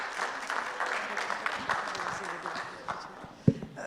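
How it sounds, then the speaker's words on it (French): Audience at a regional decision-makers' forum panel applauding the speakers, a modest round of clapping from a small crowd with some murmuring, fading toward the end. "Je pense qu'on peut applaudir nos intervenants."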